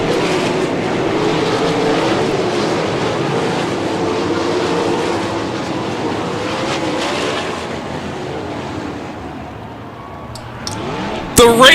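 Dirt track race cars roar down the back straightaway on the final lap at Houston Speedway, a loud, sustained engine drone with passing tones that ends in a sharp burst near the close.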